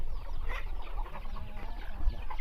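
Chickens on a breeding farm cluck in short, faint bursts against a low background murmur, with no talking.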